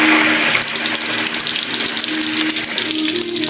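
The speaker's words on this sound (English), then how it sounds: "I'm trying to clean this jug out" Water rushes and splashes steadily while a Jeep XJ plastic overflow jug is rinsed out, making a close, continuous gushing sound with shifting sloshes.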